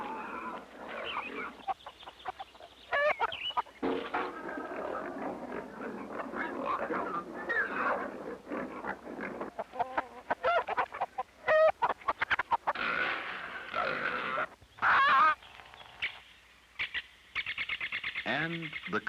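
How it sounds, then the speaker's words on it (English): Hens clucking in a medieval village setting, with scattered calls and squawks among farm animal noises while someone speaks over much of it. "He says get Widow Alice's hens out of the waste."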